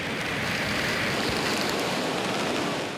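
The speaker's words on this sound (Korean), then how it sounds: "압도적인 폭포 소리까지 더해 온몸으로 이구아수 폭포를 느끼는 순간이다" Roaring Iguazu waterfall heard from a boat in Brazil: a dense, steady wash of crashing water and spray fills the whole span, loud and close, with no pauses.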